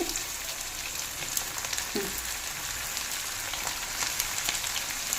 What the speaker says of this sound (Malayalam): ആദ്യം കാല് വറുക്കാം.